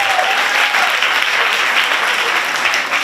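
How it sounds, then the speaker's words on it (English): Loud, sustained applause from a large crowd at a beauty pageant, dense clapping filling the whole stretch without a break. "Can we give a round of applause to Yata Dance Studios?"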